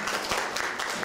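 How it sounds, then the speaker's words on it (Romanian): Brief wash of audience applause at an art exhibition opening honoring writer George Stanca, a soft continuous patter of many hands at moderate distance. "Să și aplaudăm!"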